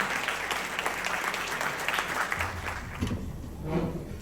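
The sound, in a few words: applause at a gala dinner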